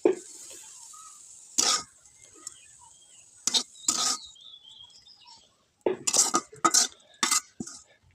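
Metal utensils clink and scrape sharply against a pan in separate short bursts while fried taro greens are lifted off a village stove, with quiet pauses between the strikes.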